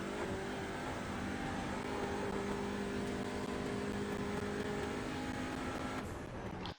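An Audi TCR touring car in iRacing holds full throttle on the Nürburgring, a loud, steady engine drone at high revs for about six seconds before cutting off abruptly, with no talking.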